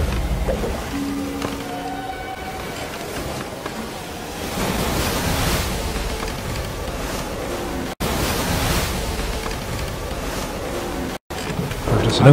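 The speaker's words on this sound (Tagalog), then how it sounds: "Lumakas ang hangin at lumaki ang adlaw." Strong wind and rising waves on a lake at night, heard as a steady, loud broadband roar of surf and gusting air that swells around the midpoint and continues throughout without a break.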